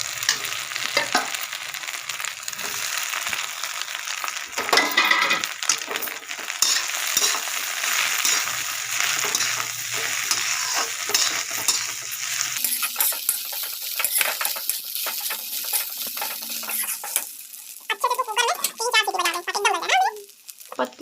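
Onions and rai bhaji (mustard greens) sizzle and crackle steadily as they fry in a pan, with occasional scraping and clinking stir strokes. A voice talks over the frying throughout.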